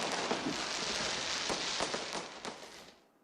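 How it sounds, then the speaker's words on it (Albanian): New Year fireworks over Auckland, New Zealand: a dense continuous crackle with scattered sharper pops, heard from a distance before it fades out at the end. "Kemi parë pra drejt për drejt spektaklin e fishek zjarreve pritës të vitit të ri në Auckland të Zelandës së Re"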